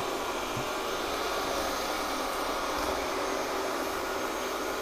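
A Roidmi Eva robot vacuum cleaner running while mopping, giving a steady broadband whirring hiss that holds at even loudness throughout with no voices.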